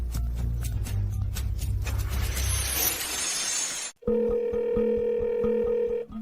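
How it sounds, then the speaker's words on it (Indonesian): An unanswered telephone call: a steady tone and ringback pulses repeat evenly after a noisy stretch, clear and close with no one picking up. "Mengapa Julia tidak mengangkat telepon?"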